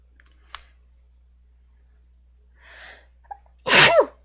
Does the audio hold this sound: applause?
no